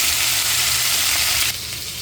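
Okra tipped into a pan of frying anchovies, a loud close hiss of sizzling oil that drops abruptly partway through, no voices.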